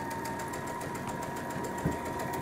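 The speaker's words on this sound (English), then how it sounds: "I'm going to continue sewing a half inch seam all the way down with a longer stitch" A sewing machine runs continuously, stitching a half inch seam with a longer stitch while putting in a zipper, its rapid even needle rhythm and motor whir close and steady throughout, with no talk.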